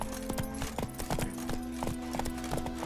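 Roach the horse galloping in The Witcher 3, rapid rhythmic hoofbeats close and clear over a steady game music drone.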